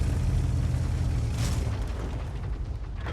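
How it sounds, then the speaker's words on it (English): An artillery shell explodes in the World of Tanks video game, a loud deep boom with a rumbling blast that fades slowly over a few seconds. "got two Artys firing together at the same area"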